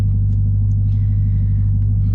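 A 2023 C8 Z51 Corvette idles while warming up, its engine giving a steady, deep, loud rumble that holds unchanged throughout with no voices.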